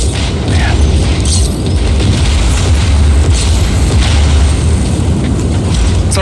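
Sustained loud roaring rumble of an explosion in Just Cause 4, a dense continuous blast with crackling debris throughout, no distinct separate bangs.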